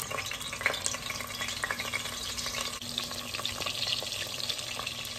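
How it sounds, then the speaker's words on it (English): Coated lamb meatballs sear in hot oil, giving a close, continuous crackling sizzle with scattered pops and light clinks as each is turned, low in level and without speech. "we're just gonna put each one of them just to sear on each side"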